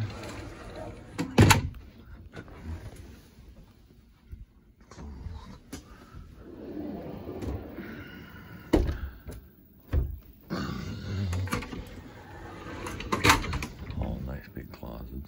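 Interior doors in a house with large closets are swung shut, giving a few dull thunks scattered among footsteps and handling noise, with people talking throughout.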